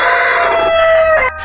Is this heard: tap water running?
no